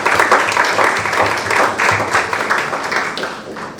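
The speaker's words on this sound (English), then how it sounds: "Once again, big round of applause for sir." Audience applause for a speaker at an HR career panel event, a steady dense clapping from a crowd that holds throughout and fades slightly toward the end, with a voice talking over it.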